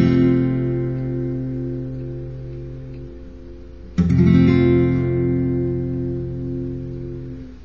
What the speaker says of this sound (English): last chord to learn here is going to be an F bar chord